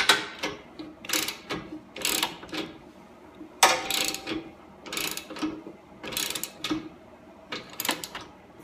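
Ratchet tightening intercooler piping on a 2014 Ford Fiesta ST front-mount intercooler install: bursts of rapid clicking ratchet strokes repeat in a steady rhythm, close and fairly loud, with short pauses between bursts and no talk.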